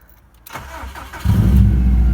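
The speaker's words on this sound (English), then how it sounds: "Feet outside the car, not on the clutch, and we're going to see if it starts." A car with a bypassed clutch start switch cranks briefly and then fires up, settling into a loud, steady idle close to the microphone, with no talking.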